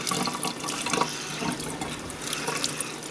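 Tap water runs steadily into a kitchen sink while acorn meal is kneaded and rinsed beneath it, a continuous close splashing and gurgle with small irregular sloshes, and no talking.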